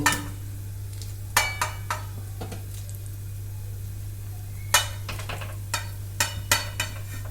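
Fried cauliflower and potato pieces drop into a simmering fish curry with soft wet plops and sharp clinks of a spoon against the pot, in scattered clusters over a steady low hum.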